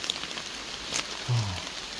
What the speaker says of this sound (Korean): 지금 비가 오고 있습니다